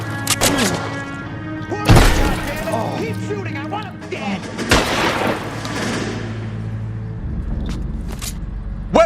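A gunfight in L.A. Noire: sharp, loud shots crack out now and then, mixed with thuds, rumble and background noise, while characters shout orders between the shots.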